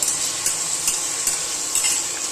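Prawns fry in hot oil over a raised gas flame for a prawn curry, giving a steady, close sizzle with periodic stirring scrapes and a few soft utensil clinks, with no talk.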